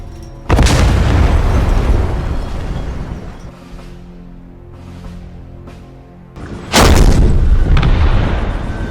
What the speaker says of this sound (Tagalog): Ipinagpatuloy ng mga tangke ng UN ang kanilang pambobomba sa Hill Erie.